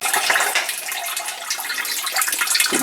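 Thick homemade banana wine mash poured through a makeshift strainer into a pail, a continuous loud splashing gush of liquid running steadily, close up and with no talk.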